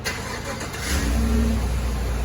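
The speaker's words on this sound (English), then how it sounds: "We're gonna see if this thing starts on a cold start and stays running." A car engine with 87,000-mile spark plugs cranks briefly on a cold start and then catches, settling into a low, steady idle rumble, close by with no talking.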